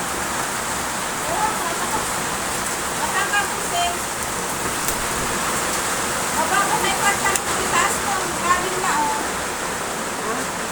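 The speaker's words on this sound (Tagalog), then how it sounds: "Naglakas ngayon ng ulan." Heavy typhoon rain pours down in a dense, steady hiss during flooding in Jose Panganiban, Camarines Norte, with occasional brief clatters and faint voices underneath.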